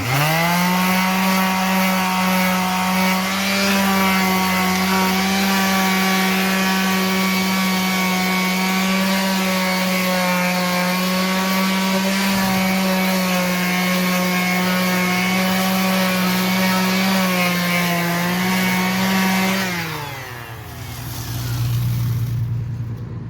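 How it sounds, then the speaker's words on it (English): A power sander or grinder runs steadily and loudly on a peeling wheel rim, smoothing it down, with a strong sustained whine that winds down near the end. "make sure you sand them all the way down, good and smooth to the touch"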